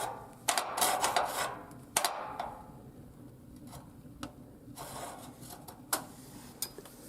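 A stuck damper on an old woodstove is worked loose in a few sharp metallic clanks and rattles, with quiet gaps between the close, irregular bursts.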